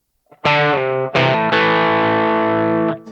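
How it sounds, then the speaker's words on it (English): A distorted electric guitar plays a blues-rock riff, striking a few notes, then sliding down in pitch and sustaining, loud and saturated with a chorus-like shimmer. "on the 4, we slide down again"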